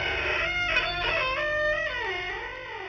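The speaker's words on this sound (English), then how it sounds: "The first spooky sound effect is the creaking door" A spooky creaking door gives a drawn-out, wavering groan that bends up and down in pitch, close and moderately loud, with no voices.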